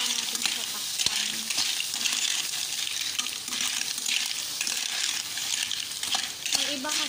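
Fresh clams, all opened, are stirred continuously in a cooking pan, giving a steady wet sizzle with scraping and clattering of shells against metal throughout, close and moderately loud, with no talking.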